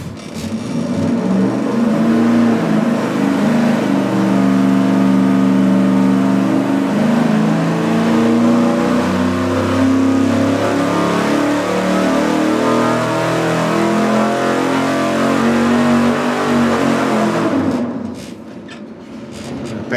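A carbureted car engine on a dyno pull during a cheap-carburetor comparison roars loudly and steadily for about seventeen seconds, its pitch climbing and holding under full load, then cuts off abruptly.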